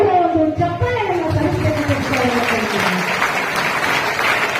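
Applause from a standing audience honouring the management and community elders at a first-year PUC student welcome function, steady clapping throughout with a speaking voice briefly audible over it at the start.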